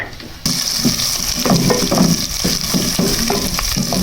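Garlic and ginger fry with spices in a hot pan, a bright steady sizzle jumping in suddenly and continuing with the scrape and clatter of stirring, no talking.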